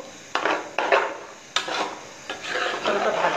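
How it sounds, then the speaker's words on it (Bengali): A utensil scrapes and stirs pulao rice with carrots frying in a pan, with repeated rasping strokes and clinks at close range. "এরপর আমি একটু ভেজে নিব,"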